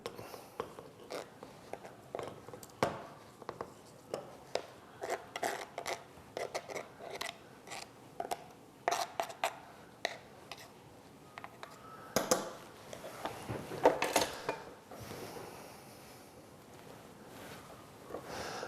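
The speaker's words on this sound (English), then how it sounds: "And just stir the mixture." Kiwi mixture stirred by hand for DNA isolation, giving a run of short, close scraping and clicking strokes in an uneven rhythm, heard alone with no talk.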